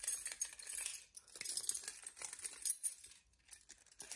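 A ring of keys jangles and clinks in bright metallic bursts, close by and fairly quiet, with brief pauses between shakes and no talking.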